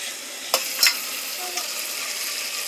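Food frying in a pan is stirred with a spoon after a spoonful of water goes in, giving a steady close sizzle with a few sharp scraping clinks early on.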